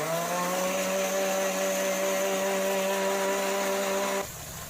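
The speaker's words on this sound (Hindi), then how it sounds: "दही को हम ग्राइंड कर लेंगे" An electric blender grinds yogurt in a jug with a steady, high-pitched motor whine that holds constant, then cuts off abruptly near the end and leaves a quieter room.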